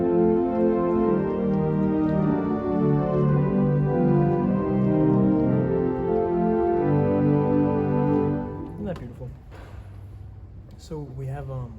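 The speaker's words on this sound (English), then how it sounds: "So all of the 8s put together sound like this." A large, lavish pipe organ sounds with all its 8-foot stops drawn together, a dense sustained chord cluster shifting through several held harmonies before cutting off, leaving a short reverberant tail with faint knocks.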